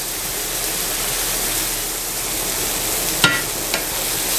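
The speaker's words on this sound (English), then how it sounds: "now I'm going to add a tablespoon of butter and a tablespoon or two of garlic" Garlic frying in butter in a pan alongside mushrooms, a steady close hiss and sizzle filling the whole stretch, with a sharp clink of a utensil near the end.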